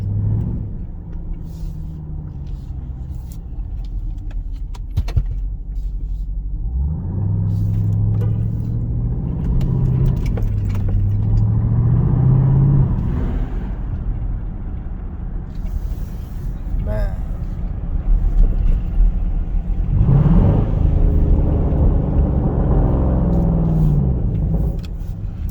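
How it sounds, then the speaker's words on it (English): A Dodge Durango SRT 392 cruising at night in auto eco mode, its V8 rumbling and rising and falling through revs, with scattered sharp exhaust pops and crackles. Someone talks over the engine throughout. "It's 392 Durango SRT, man."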